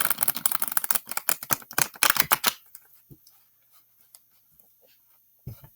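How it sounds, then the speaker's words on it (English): A deck of tarot cards being riffled and shuffled by hand, giving a rapid burst of crisp, close flapping snaps for about two and a half seconds, then quiet with a few soft taps and card handling. "I already pre-shuffled these, but I'm going to shuffle them one more time."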